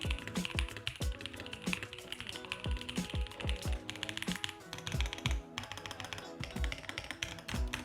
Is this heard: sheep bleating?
no